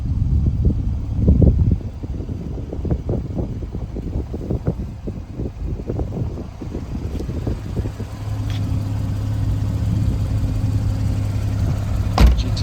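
A 2015 Porsche 911 GTS Cabriolet with PDK gearbox idles close by, a steady low rumble with small throttle flutters early on, then settling into an even, droning hum.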